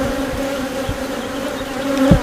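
Honeybees hum steadily at an open hive during a summer inspection, a close, continuous drone with a brief louder buzz near the end and no voices.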